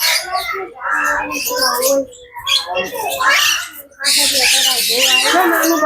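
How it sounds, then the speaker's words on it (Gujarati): Assorted parrots squawk and chatter in a zoo aviary at Kankaria Lake in Ahmedabad, with loud, dense, overlapping calls running almost without a break from near and middle distance. "આ બાજુ ભાઈ અનેક પ્રકારના પોપટ છે ભાઈ."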